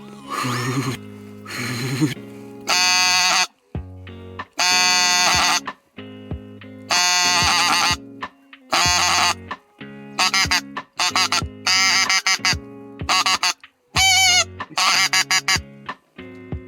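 A Kynat Tundra goose call imitating the low murmuring of a bean goose, giving a series of short nasal honks and cackles in irregular bursts, close and loud with no talking.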